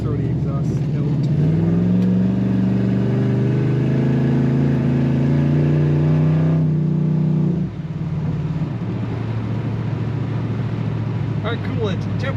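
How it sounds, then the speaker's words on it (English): A 1966 Dodge Coronet Deluxe two-door sedan with a 5.7 Hemi revs its engine, a throaty exhaust note rising and holding for several seconds before dropping back to a steady idle, loud and close. "Very responsive throttle in this car and a nice throaty exhaust note."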